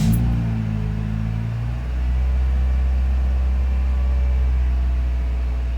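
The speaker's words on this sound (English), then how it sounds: "I'm gonna turn the car on." A Scion xA engine cranks for a moment, then catches and settles into a steady, close, low idle hum that continues with no talking.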